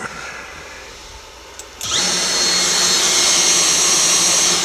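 A Genmitsu ProverXL 4030 CNC router spindle switches on after a quiet moment and quickly spins up to full throttle, then holds a loud, steady high whine nearby.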